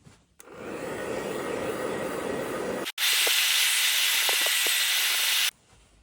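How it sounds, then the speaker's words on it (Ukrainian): A hair dryer blows with a steady loud whoosh, shifting to a higher, harsher setting partway through before switching off. "щоб пришвидшити процес, я сушу феном."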